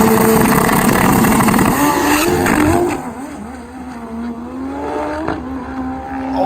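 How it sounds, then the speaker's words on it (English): Old-school Kawasaki KZ engine in a turbo drag motorcycle at a drag race, a loud high-revving roar that drops off and settles into a rough, lower drone at a distance. "Another KZ motor, check it out."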